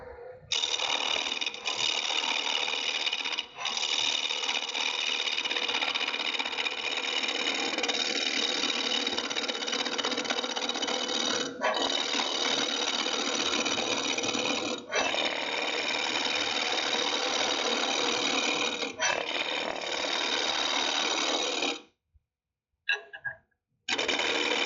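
A wood lathe turning a wooden spatula blank runs at about 1100 RPM with a loud, continuous whirring drone, broken by occasional faint ticks, then cuts off near the end.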